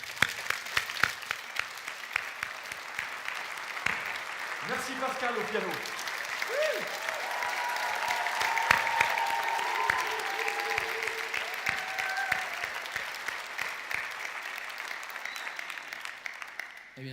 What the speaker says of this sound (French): J'aimerais que vous applaudissiez tous.